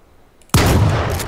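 Gunfire in the video game H1Z1 King of the Kill, a sudden loud burst after near silence that holds as a dense, sustained crackle of shots for the rest of the moment.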